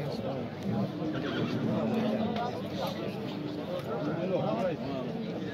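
A horse neighs repeatedly at a busy livestock horse market, its whinnies rising over a steady crowd murmur and nearby talk throughout.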